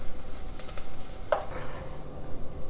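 Thinly sliced onions stir-fry in coconut oil, a close steady sizzle with repeated scraping strokes of a spatula and one brief clink of the utensil against the pan.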